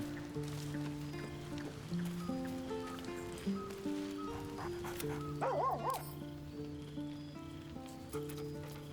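A dog barks in the fantasy role-playing game Baldur's Gate 3. Short, close barks and yips sit over a soft, sustained musical score, with a brief whine-like sound partway through and no talking.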